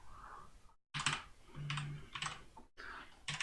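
Keys on a computer keyboard clatter in quick irregular bursts of typing, close and fairly quiet, with short pauses between runs of keystrokes and a low hum underneath.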